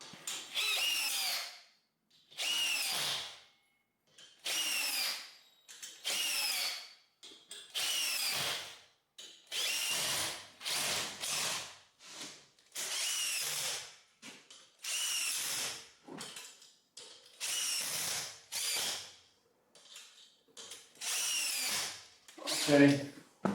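A power drill whirs in repeated short bursts, about a dozen runs with brief pauses between, as it bores the last hole in drywall metal framing close by, with a small ratcheting click at the end.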